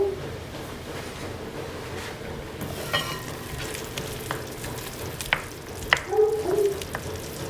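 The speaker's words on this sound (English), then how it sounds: "let this thing simmer a little bit." Asado de puerco simmers over a low fire in a guajillo and ancho pepper sauce, giving a soft, steady bubbling sizzle with small pops and clicks, with no talking.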